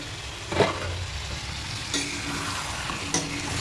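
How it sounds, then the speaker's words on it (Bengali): Chicken and potato curry is stirred in a pan, a soft steady sizzle beneath three distinct scraping strokes of a spoon against the pan, close by and without talk. "একবার নাড়িয়ে নেব"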